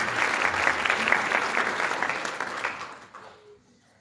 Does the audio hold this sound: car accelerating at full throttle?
no